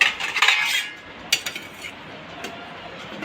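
A lid goes onto a dish of stuffed bitter gourd and onions in a home kitchen, giving a few sharp metallic clinks and clatters, loudest at the start and then settling into quieter taps.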